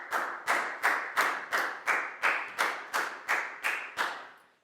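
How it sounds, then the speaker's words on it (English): A class of Year 4 pupils clapping together in a steady, even rhythm: about ten sharp, loud claps, each with a short decay, with no voices. "High five and a big round of applause for Prell"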